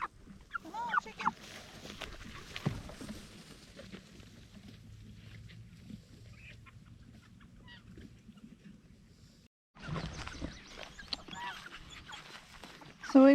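Cornish cross meat chickens on a garden plot, giving soft clucks and squawks close by, with a person talking over them and a short quiet gap partway through.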